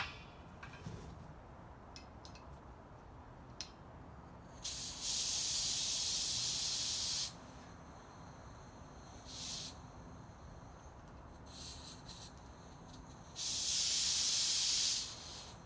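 Propane hissing from a 1 pound bottle being refilled, two loud steady bursts of broadband hiss lasting about two seconds each with a brief short puff between, otherwise quiet background.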